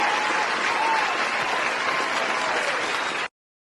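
A crowd gives loud, dense applause that holds steady for about three seconds and then cuts off abruptly into silence.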